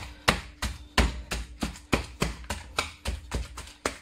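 A knife pounding chopped meat on a board, steady heavy thuds roughly every third of a second, close and fairly loud with no talking.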